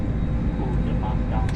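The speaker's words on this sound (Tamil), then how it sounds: "நீங்கள் வேணா அப்படியே பாருங்கள் ஃப்ளைட் போகிறது" An airplane in flight roars steadily as a broad, loud rumble, with faint talk mixed in.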